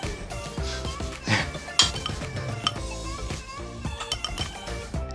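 Colander and metal kitchen pans being handled, with scattered clanks, clinks and knocks of cookware, some sharper bright hits, over a busy background of music.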